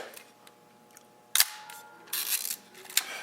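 Several crisp mechanical shutter clicks from a Nikon FE film SLR fire one after another, close up, with a brief whirring snap after each release in a quiet room.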